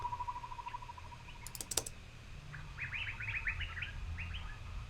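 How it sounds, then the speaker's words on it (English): Faint nature ambience with birds tucked into a beat's background: a soft rapid trill, a few sharp chirps, then a burst of quiet twittering over a low steady rumble. "Just some nature sounds."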